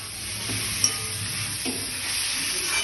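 A fried egg being stirred into a chicken dish in a frying pan, a steady loud sizzle running throughout with soft scraping strokes of a spatula up close and no voices.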